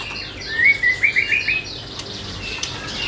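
An orange-headed thrush gives a quick run of bright, high chirps that lasts about a second, somewhat distant, followed by quieter background.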